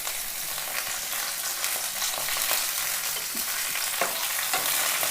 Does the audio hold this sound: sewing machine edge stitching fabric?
no